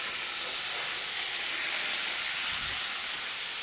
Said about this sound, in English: Let's get the onion in there. That's going to cook inside the